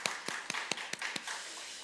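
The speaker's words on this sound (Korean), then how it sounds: "영광의 박수 올려드립니다" A congregation claps during a Sunday church service: about eight quick, evenly spaced claps in a steady rhythm, fairly soft and slightly distant, with no talking.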